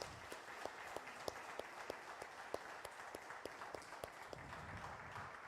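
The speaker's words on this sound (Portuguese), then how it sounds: "vamos dar uma salva de palmas para esses preciosos" A church congregation gives a round of applause during a family worship service. The clapping is faint and distant, with evenly spaced, rhythmic claps that pulse steadily over a quiet room.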